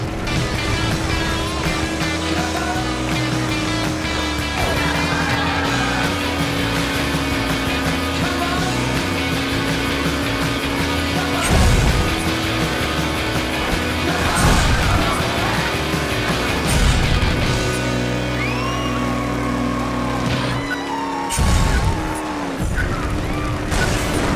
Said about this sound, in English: It's Wild Wild West racing.